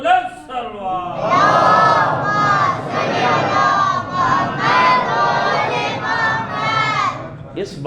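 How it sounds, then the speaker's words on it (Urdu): A large congregation at a religious majlis loudly recites salawat in unison after a single leader's call, the massed voices rising into sustained rhythmic phrases that pulse for several seconds, close and powerful. "آواز بلند سلوات."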